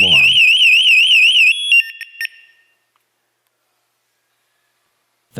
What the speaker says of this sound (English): By pressing the front button, the unit will go into full alarm.